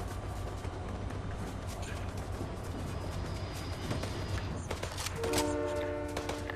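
Train in the Fortnite Chapter 5 video game: a steady rumbling rail drone throughout, ending with a loud, sustained, multi-toned horn blast over the last second or so.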